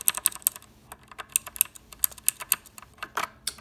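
Typing on an EagleTec KG040 mechanical keyboard: crisp, close clicking keystrokes in irregular quick bursts, fairly quiet, with no voice over them.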